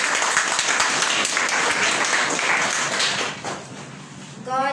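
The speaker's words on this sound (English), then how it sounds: "Shall we give her a round of applause?" A parish prayer-breakfast audience gives steady, full applause before a poem reading, sustained clapping for over three seconds that then dies away as a voice begins.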